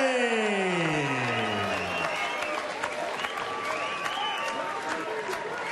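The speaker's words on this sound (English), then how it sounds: "So appreciative applause from the crowd in attendance here at the Indigo Theatre at the O2 Arena." At a professional boxing event in London's Indigo Theatre at the O2 Arena, the crowd applauds steadily and broadly, with some cheering, under a commentator's voice.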